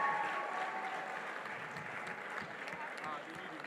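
Audience applause at a demo day event, a fairly faint, even wash of clapping from a seated crowd that carries on steadily throughout.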